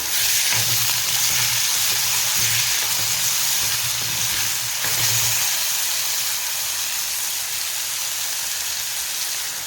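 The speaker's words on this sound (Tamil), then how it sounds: "வெங்காயம் நல்லா வதக்கிடுதுங்க தக்காளி சேர்த்துக்கிறேன்" Tomatoes sautéing with onions in a pan for a Chettinad chicken pepper dish, a dense, steady sizzling hiss with a low rhythmic scraping underneath.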